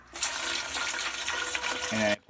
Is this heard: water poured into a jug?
yes